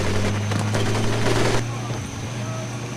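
Machine gun fire rattles in Medal of Honor: Pacific Assault, a dense continuous burst over a droning engine-like hum, stopping abruptly partway and leaving a steady rumble.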